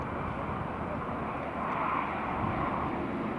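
An Emirates Airbus A350 approaching through cloud gives a steady, continuous jet rumble at some distance, broad and even, with a slight swell partway through.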